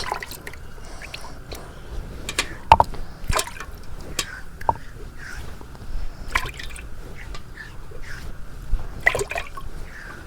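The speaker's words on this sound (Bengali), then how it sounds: "শিলপাটাটা আমার ধোয়া হচ্ছে" A stone grinding slab being washed with water from a bucket, with scattered splashes, drips and wet rubbing sounds at close range.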